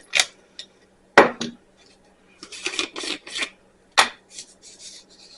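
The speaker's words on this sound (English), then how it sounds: "we're just going to go ahead and stir this really well" A spoon scrapes and rasps around a bowl while stirring a food mixture, close, irregular strokes in short bursts separated by brief pauses.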